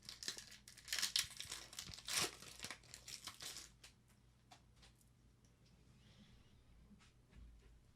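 Lorcana booster pack torn open and crinkled, a run of sharp foil ripping and crumpling bursts up close, then quieter scattered rustles and ticks.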